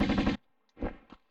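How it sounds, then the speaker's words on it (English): A short burst of Uzi fire in the Tomb Raider video game is followed by a pause and then a couple of softer shots. The fire sounds close and harsh. "So now I just shoot everybody with an Uzi."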